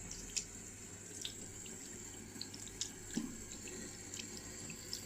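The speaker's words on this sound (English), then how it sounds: "try and rinse it thoroughly, especially the stainless fixtures" A faucet runs steadily to rinse stainless fixtures in a bathroom during cleaning, giving a soft continuous water rush with small scattered drips and splashes.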